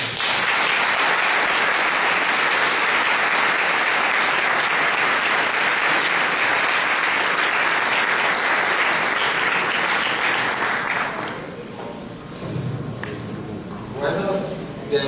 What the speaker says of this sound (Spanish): un aplauso de todos.